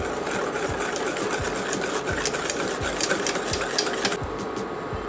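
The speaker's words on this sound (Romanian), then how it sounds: "amestecăm în continuare până când va da într-un clocot" Cream, vanilla sugar and liquid whipped cream being stirred in a pot over medium heat on the stove, a steady scraping whisk-like rhythm with repeated low knocks, close and continuous, no talking.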